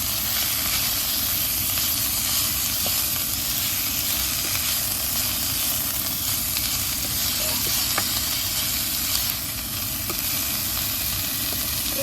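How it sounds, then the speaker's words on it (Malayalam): Spinach (cheera) hitting hot oil in a pan for thoran sizzles and hisses steadily and loudly throughout, with faint stirring scrapes now and then and no talking. "നമുക്കതിൻ്റെ അകത്തേക്ക് നമ്മൾ ഇളക്കി വെച്ചിരിക്കുന്ന ചീര ഇട്ട് കൊടുക്കാം."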